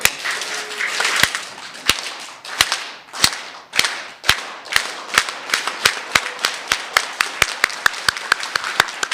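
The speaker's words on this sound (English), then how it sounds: "we're going to enter in a slow, dramatic clap" Speech competition audience claps in unison, starting slow with sharp, evenly spaced claps that gradually speed up into a quickening rhythm.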